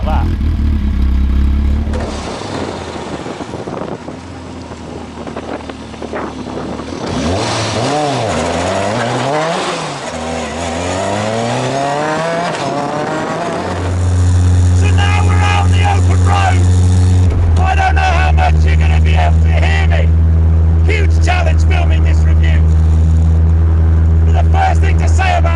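A Caterham 620R with a side-exit exhaust rises and falls through loud revs, its engine note sweeping up and down before settling into a steady drone with crackles and bangs on the overrun, recorded close.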